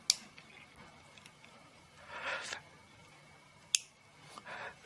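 A fountain pen's piston knob is turned and snaps past its detent, making two small, crisp clicks a few seconds apart with faint handling rustle between them, close and quiet.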